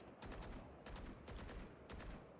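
Gunfire sprayed in a first-person shooter video game, four quick bursts of rapid automatic shots, each a dense rattling volley separated by brief pauses, loud and close with no talking.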